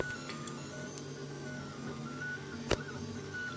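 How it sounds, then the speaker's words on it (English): A RepRap 3D printer prints a parametric appliance knob, humming steadily at close range with faint periodic ticks and one sharp click. "Here it's printing the parametric appliance knob."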